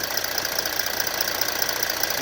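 A Mercedes car engine idles steadily just after start-up, in a car with an air conditioning fault; a continuous close, fairly loud hum with a faint regular ticking pulse and no talk.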